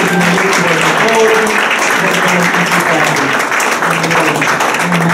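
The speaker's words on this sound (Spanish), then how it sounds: "Quiero aplaudir." A church congregation applauding during a sermon, a dense, loud and continuous wash of clapping that fills the whole stretch, with voices mixed into it.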